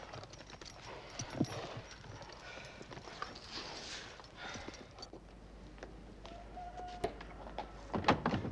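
Horse hooves clip-clop at a moderate distance, a soft uneven patter of steps under rustling background noise, with a few sharper knocks toward the end.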